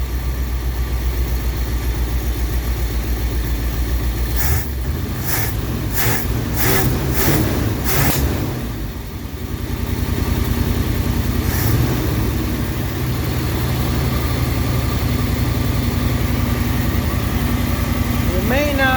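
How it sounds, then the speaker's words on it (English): A 1959 Ford Galaxie Fairlane 500 engine with a leaking pump idles steadily with a low rumble, interrupted midway by a few sharp rhythmic clanks; a voice speaks briefly. "It sure is idling nice though."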